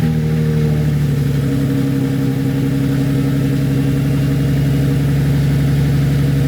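A single-turbo BMW M3 engine idles with a loud, steady low rumble and strong harmonic drone, recorded up close with no talking.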